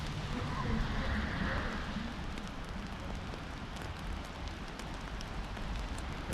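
Steady rain falling outdoors on a wet winter day in Salem, Massachusetts, mixed with snow, a continuous broadband hiss with soft patter throughout and no clear distinct drops.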